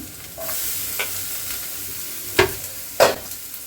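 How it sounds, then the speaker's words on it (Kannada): Carrot, beans and capsicum frying in a pan, a steady close hiss of sizzling oil broken by a few louder scrapes and stirs of a spatula, with no talking. "ಇವಾಗ ಇದನ್ನು ಒಂದ್ಸಲ ಚೆನ್ನಾಗಿ ಫ್ರೈ ಮಾಡ್ಕೊತೀನಿ."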